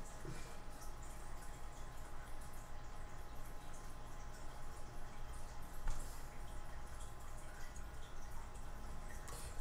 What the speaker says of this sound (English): can you hear this water in the background? I forgot to turn it off.